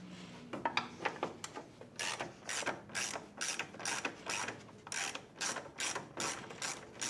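A hand ratchet loosening 10mm headlight bolts on a Jeep: close, quiet, rhythmic clicking strokes in quick repeated bursts, with a few softer rubbing and handling sounds at the start.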